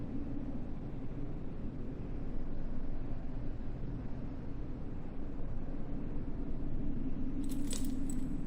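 Brief metallic jingle of keys near the end in the Martha is Dead video game, after a long low rumbling ambience; a short bright rattle of a few clinks.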